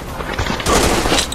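AK-47 firing in a commando video game, a short rapid burst of loud automatic gunfire.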